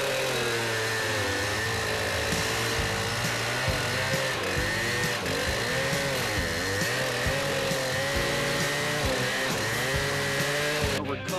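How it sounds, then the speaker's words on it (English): Gas-powered trencher saw cutting a trench into the ground for a root barrier installation in Anaheim, California, a loud continuous buzzing engine drone with slight shifts in pitch, close by throughout. "So when you use this saw or trencher, you don't need max RPM."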